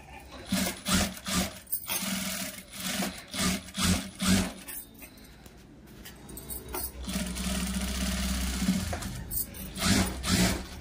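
Domestic sewing machine double stitching the neckline of a blouse, close-up bursts of rapid mechanical whirring in short repeated runs, then a longer continuous run with light handling sounds between.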